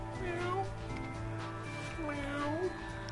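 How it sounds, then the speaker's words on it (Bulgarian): Cat meowing inside the video game Three Dead Zed, a few rising and falling meows over steady game music and background sound. "Някакво мяукане."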